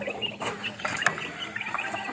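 Several backyard hens cluck and chirp softly up close at a drinker, short scattered calls overlapping in quick succession.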